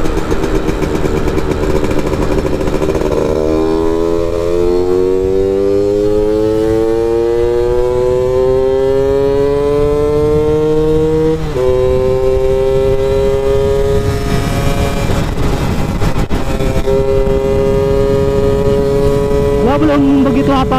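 A Yamaha F1ZR two-stroke motorcycle engine revs and climbs through the gears during a top speed run, its whine rising steadily with a shift around midway, under constant wind roar and intermittent talk.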